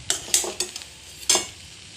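Egg chow fries in a pan just after a spoon of ghee goes in, a close sizzle punctuated by several crisp spoon-against-pan stirs in quick bursts, with no voices.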